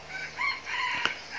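A jungle fowl rooster crows once at moderate distance, a short harmonic call rising and falling over steady background hiss, with no voices present.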